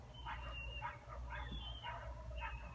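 A dog yips and whimpers in a few short bursts in a room, moderately close, over a steady low hum.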